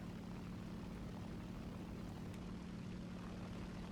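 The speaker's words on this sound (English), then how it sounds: "Little Mitsubishi engine, you can do it." Mitsubishi aircraft engine on a fixed-wing fighter in War Thunder, a steady, loud, droning propeller roar with a constant low hum and no break.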